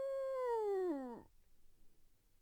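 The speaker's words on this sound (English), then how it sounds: "A wolf will call to its pack" A wolf calls to its pack with a single close, clear howl that holds steady, then slides downward and cuts off, leaving a quiet stretch afterward.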